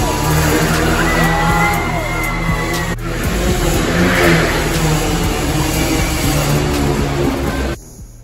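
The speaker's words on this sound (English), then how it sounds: "They even had the motorcycle Globe of Death" Motorcycles rev inside a circus Globe of Death, engines whining and rising in pitch over one another amid crowd noise, loud and close, then cutting off abruptly near the end.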